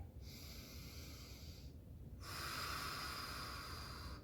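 Slow, deep breathing during a hip stretch, a close, soft inhale followed by a longer airy exhale, faint and alone.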